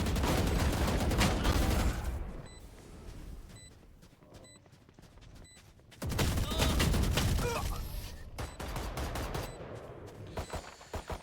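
Vandal rifle fire in the Valorant video game, with loud rapid bursts at the start and again through the second half, separated by a quieter stretch.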